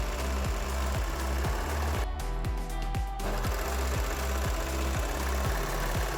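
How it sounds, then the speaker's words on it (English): A Baby Lock Victory sewing machine stitching seams in Lycra fabric with a thin needle, running loud and close with a fast, steady mechanical chugging rhythm that barely pauses, no talking. "I use my Baby Lock Victory machine with thin needles so I don't make holes or ruin the nice fabric."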